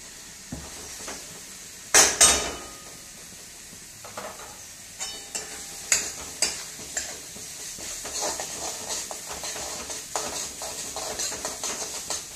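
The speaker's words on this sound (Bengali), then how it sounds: "আলুটা ম্যাশ করে এই মশলাটার সাথে ফ্রাই করে নিলাম" Mashed potato frying with spice masala in a pan, a low sizzle broken by a loud clatter of utensils, then repeated scraping stirs and clinks against the metal.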